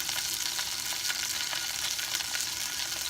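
Beef searing in a hot pan for a beef stew, a steady, dense sizzle that holds close and loud without a break, with no voices over it.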